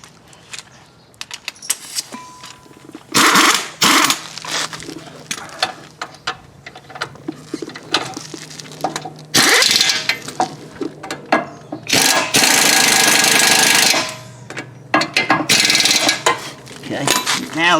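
Brake caliper bolts being run in on the front brakes of a 2010 Nissan Altima, with loud ratcheting bursts from a tool separated by clinks and metallic handling noises.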